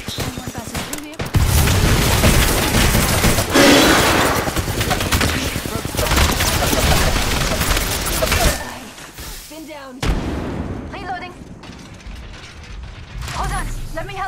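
Video game combat with dense, loud bursts of automatic gunfire and explosions filling most of the stretch, then dropping to sparser shots and thuds near the end.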